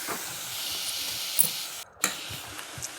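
Milk poured into a hot pan of ghee-fried carrots for gajjari halwa gives a steady, moderately loud hiss that carries throughout, cut by a brief silent gap near the end before resuming.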